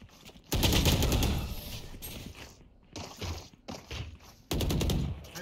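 Gunfire in the tactical shooter Valorant comes in loud, close automatic bursts, several rapid rattling volleys separated by short pauses.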